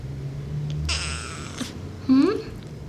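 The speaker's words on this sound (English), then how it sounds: "Did you guys hear that meow?" A pet cat named Eve gives a single short, close meow after a stretch of quiet household background sound, standing out clearly near the end.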